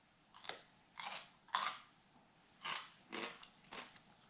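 Crunchy homemade refrigerator pickles with banana pepper being bitten and chewed close up, six separate crisp crunches spaced about half a second apart with quiet pauses between them.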